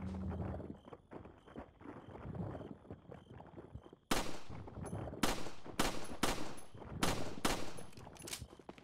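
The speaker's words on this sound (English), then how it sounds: "Wait a minute, I want to shoot down these chains." Gunshots in the video game Resident Evil 4 as chains are shot down: after muffled game ambience, a series of sharp, loud bangs at roughly half-second to one-second intervals, each with a short echoing tail.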